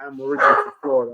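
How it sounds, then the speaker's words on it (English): A dog barks a couple of times close by, overlapping someone talking during a wrestling-themed podcast interview. "sorry about the dog."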